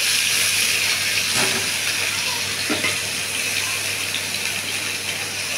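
Boiled drumstick stalks and jackfruit seeds hit hot oil in a pan, giving a loud, constant sizzle and hiss with a couple of faint clinks, no voices over it.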